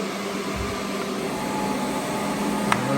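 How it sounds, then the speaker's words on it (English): A cordless wet-and-dry floor cleaner runs its vacuum on setting 2 with cleaning solution on, giving a steady, continuous motor whir and airflow hiss at close range, with one brief tick near the end. "I'm gonna go to setting number 2, and this is the vacuum."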